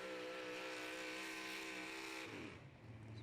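A GMC diesel truck at a four-wheel-drive super stock truck pull roars loudly and steadily, its engine note holding a strained, harmonic howl before dropping and shifting as the run nears its end.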